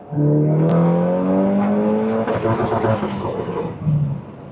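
A stock, unmodified car engine revs up with a rising tone, then drops and rumbles unevenly, close and loud, with a brief second rev near the end.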